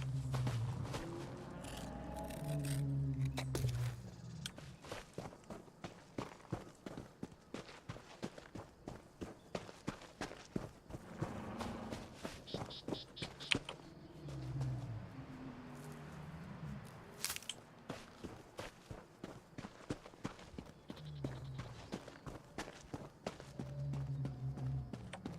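A character lopes along on foot in the video game Elder Scrolls Online, with steady, rhythmic footfalls thudding close over continuous game music.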